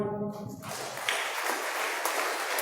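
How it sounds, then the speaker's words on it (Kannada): After a voice fades out, a church congregation breaks into steady clapping that fills the room and continues to the end. "ದೇವರಿಗೆ ಚಪ್ಪಾಳೆ"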